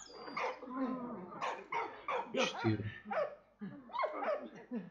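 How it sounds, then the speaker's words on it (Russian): A dog in the World War I game Valiant Hearts gives short yips and barks mixed with game sounds, while someone talks over them throughout. "А, собачка."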